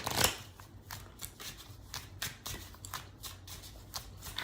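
A deck of tarot cards is shuffled by hand up close, a quick run of crisp riffling flicks and soft slaps repeating in an uneven rhythm.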